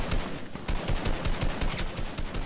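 Rapid bursts of gunfire in an online shooter game, loud repeated shots in quick, uneven volleys with no talk over them.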